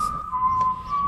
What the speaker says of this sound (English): the whistle is certainly telling us it is